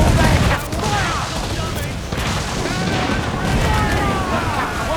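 Ship cannons firing in Assassin's Creed 4: Black Flag naval combat, a heavy booming volley at the start followed by a continuous rumble of cannon fire and battle din, with shouted voices over it.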